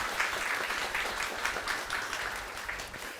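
Church congregation clapping during a Sunday worship service, a steady, dense patter of many hands that holds at an even level for the whole stretch with no speech over it.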